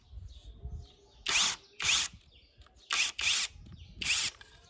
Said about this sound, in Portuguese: Folguei e retirei o parafuso.